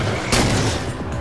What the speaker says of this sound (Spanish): Ahora sí que disparo a matar, Perro, muere.